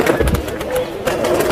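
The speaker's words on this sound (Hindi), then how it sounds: "बॉर्डर वाले कबूतर, नर मादी सब मिक्स इसमें।" Border breed pigeons, males and females mixed together, coo softly in a pet shop in Andheri East, Mumbai, a brief close murmur of calls over a busy room.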